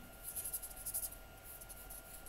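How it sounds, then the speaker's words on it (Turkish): Felt-tip marker coloring on paper in orange for a paper heart craft, a faint soft scratchy rubbing in short repeated strokes that tapers into quieter strokes, heard close and alone. "turuncu renkle boyuyorum. Keçeli kalem kullanıyorum ben."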